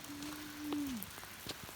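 Light rain falls steadily outdoors in a soft, faint, even patter heard from a dry sheltered spot, with a thin hum running through it.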